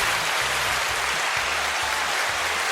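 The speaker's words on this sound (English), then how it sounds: "That's the applause button" Canned applause played from a sound-effect button on a Zoom PodTrack P8 podcast recorder, a dense crowd-style clapping that runs loud and continuous throughout, with low tonal sounds beneath.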